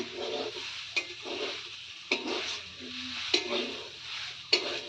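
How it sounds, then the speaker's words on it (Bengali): Potatoes fry in a pan with a steady sizzle. A spatula stirs and scrapes against the pan at regular intervals, with sharp clinks at several points. "ও আলু ভাজা করছে এখন"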